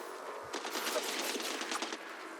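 Rapid bursts of video game gunfire crackle in a quick volley, close and fairly loud, with no talking over them.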